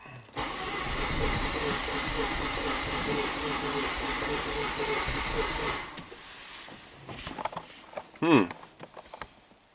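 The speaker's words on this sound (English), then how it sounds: "There's RPM. Let's crank it." A Saturn car engine cranks over steadily for about six seconds with a rough, rhythmic starter churn and some stumble, then stops, leaving quieter shop noise and faint voices.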